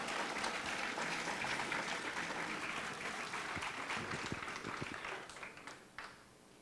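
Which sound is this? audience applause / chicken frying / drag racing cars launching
audience applause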